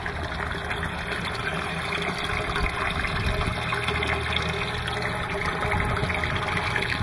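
A submersible Pondmaster 1200-gallon-per-hour, 110-watt pump drives well water through a black garden hose. It makes a steady, continuous rush of flowing water with an even hum and no pauses.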